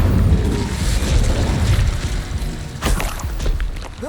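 A fire spell cast in Hogwarts Legacy, a loud, dense roaring blast with a deep rumble that lasts throughout, with a brighter whoosh near the end.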